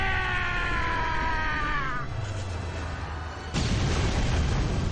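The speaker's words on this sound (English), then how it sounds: "big explosion" Big explosion in a Nanatsu no Taizai: Grand Cross mobile game cutscene, a loud noisy burst hitting after a tonal music passage and rumbling on to the end.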